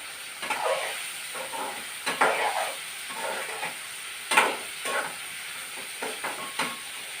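Raw banana pieces cooking slowly in oil, giving a soft sizzle broken by intermittent stirring bursts, heard close and alone.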